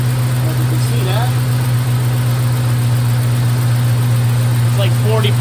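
LS-swapped engine idling steadily in a 1951 Hudson, a constant low hum running throughout with faint speech over it.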